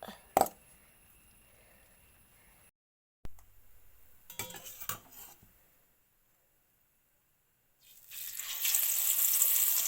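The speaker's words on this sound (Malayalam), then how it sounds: "എണ്ണയ്ക്ക് ചൂടായി ഞാൻ അതിലേക്ക് മീനോ മീനുകൾ ഇട്ടിട്ട് കേട്ടോ മസാലയൊക്കെ പുരട്ടി വെച്ച മീനാണിത്" Masala-coated fish slips into hot oil in a home kitchen, and after quiet clinks and handling noises a bright, crackling sizzle swells up and keeps hissing strongly.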